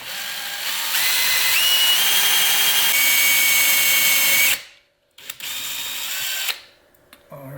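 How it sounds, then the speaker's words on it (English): A power drill whines loudly as it bores into a metal pump body, its pitch rising under load, then stops, followed by a short second burst. "I'm just gonna go in at a really shallow angle and then start drilling"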